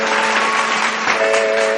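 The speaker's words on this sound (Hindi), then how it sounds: "गोटे जोरदार करताली सहित स्वागत करवा।" An audience greets a singer at a Prathana Mancha stage show with steady, dense clapping. A sustained musical tone from the stage runs beneath the applause.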